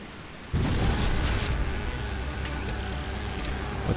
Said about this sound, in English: You fire cannons here without my permission?